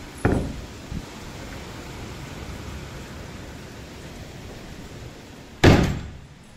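Windows are pushed shut during a heavy rainstorm, with a firm thud at the start, a lighter knock soon after and a loud bang near the end, all over a steady rain hiss.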